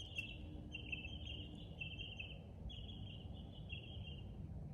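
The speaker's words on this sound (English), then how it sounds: "Do y'all hear the birds?" Birds sing outdoors in a steady stream of high, thin chirping and trilling, with a few brief pauses, over a low background rumble and no talking.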